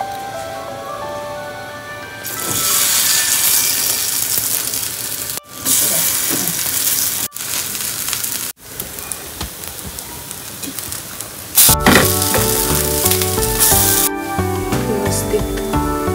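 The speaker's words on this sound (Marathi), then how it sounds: "भाजून घ्यायच्या टिक्की आपल्याला आता" Moong dal paneer tikkis fry on a hot pan with a loud, steady sizzling hiss that surges and dips, growing rougher and more crackling near the end; no voices.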